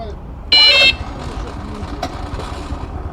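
A Spark SP125S scooter, started by remote with keyless access, gives a brief loud electronic chirp followed by a low steady engine idle close by.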